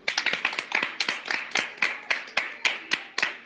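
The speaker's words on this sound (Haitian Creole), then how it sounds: "On applaudit." An audience claps in short, uneven bursts of sharp hand claps, moderately close and fairly sparse, like a small group in a room.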